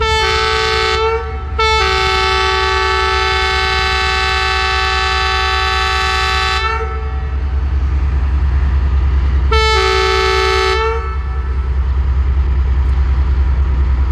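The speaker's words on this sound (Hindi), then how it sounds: "ये 5:15 पे डिपार्चर हॉर्न हो गया।" A loud train departure horn on the 18 Down Millat Express at Toba Tek Singh Railway Station blasts in two long sustained tones, the first about five seconds, then a shorter second blast, over a steady low engine rumble.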